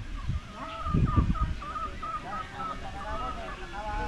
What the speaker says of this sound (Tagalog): meron tayong bisita dito na manok